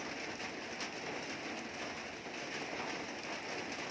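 Steady rain falls and patters on surfaces, a dense even hiss that is close and constant throughout, with no voices.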